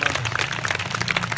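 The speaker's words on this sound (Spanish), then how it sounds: "Den un fuerte aplauso a mis hermanos." A church congregation claps in a quick, lively burst for singers after a worship song, with a low hum beneath.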